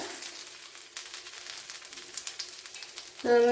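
Mustard seeds and ginger sizzle in a tablespoon of hot oil, giving a steady hiss with small crackles, close and continuous, before a brief louder clatter at the end.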